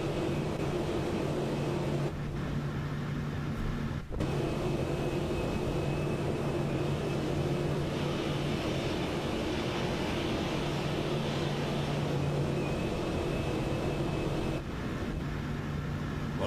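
In a flight simulator, a PMDG 737-800 airliner comes in to land with a steady, close whining jet drone and a sustained engine tone, briefly dipping twice and then resuming, with no voices.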